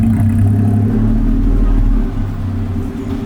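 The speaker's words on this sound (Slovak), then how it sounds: "Troška je tu zhustená premávka." Dense road traffic rumbles through Bangkok's Chinatown, a loud, close, continuous low drone of car engines with a brief swell partway through and no voices.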